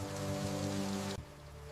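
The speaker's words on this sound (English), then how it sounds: "The rain brings a momentary peace to the jungle, but the hunt will soon begin again now." Heavy rain pours steadily through a jungle as a dense, even hiss with a low droning tone beneath it, then drops off abruptly near the end.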